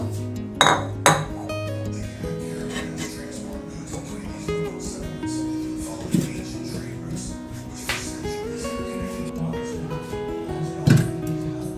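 Metal cooking pots are covered with a lid and a large bowl. Clinks and clanks of metal and crockery ring out at irregular intervals, with a few sharper knocks over a low kitchen background.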